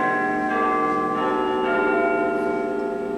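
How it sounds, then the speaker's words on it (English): A church hour bell sounds a dull, deep, hollow stroke in a stage production of A Christmas Carol, its sustained, ringing tone hanging steadily and fairly loud with no talking. "the hour bell sounded, which it now did with a dull, deep, hollow, melancholy 1"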